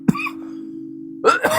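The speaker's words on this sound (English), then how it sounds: "here is that wonderful coughing jag" A wet throaty cough bursts out, a low drone hangs for about a second, and then a fresh run of hacking coughs breaks in, loud and close with no talk.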